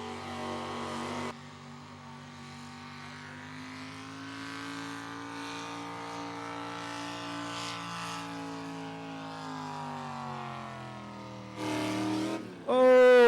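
A converted Ford Bronco pro stock 4x4 pulling truck drones steadily at a distance for several seconds, its engine pitch climbing slowly, before a sharp loud burst near the end.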